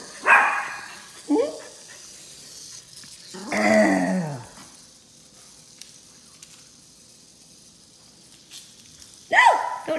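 A dog barks at a cockroach in a few sharp, close bursts spread across the stretch, with quiet gaps between and a final bark near the end.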